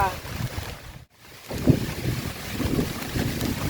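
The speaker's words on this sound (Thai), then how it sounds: "ทั้งฝนทั้งลมเลยนะครับ" Steady rushing wind and rain buffet the microphone outdoors with a broad wash, briefly dropping out, then returning with soft thumps; no voices are clear.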